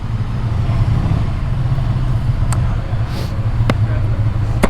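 A scrambler motorbike creeps slowly into an indoor car park, its low engine drone steady and close throughout, with a few sharp higher clicks and rattles over the top.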